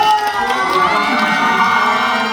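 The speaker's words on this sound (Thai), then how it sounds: "ขอเสียงปรบมือด ังๆให้กับไลฟ์เช" A loud crowd at a LYKN fan event, the LINE Stickers Awards, cheers and shouts continuously, a sustained roar of excited voices with clapping mixed in.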